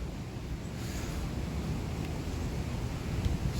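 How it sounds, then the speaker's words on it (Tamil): Wind blows across an open outdoor cricket ground ringed by mountains with rain approaching, a steady low rushing roar buffeting the microphone, fairly faint and continuous with no voices. "காற்றடிக்குது, பூவெல்லாம் பறந்து போகுது பாருங்க"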